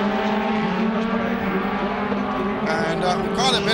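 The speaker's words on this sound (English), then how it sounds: "Now here is the Salzgitter car." A Mercedes-Benz DTM touring race car at Valencia's Ricardo Tormo circuit gives a loud, steady high-revving engine drone, the pitch rising toward the end as it accelerates along the track.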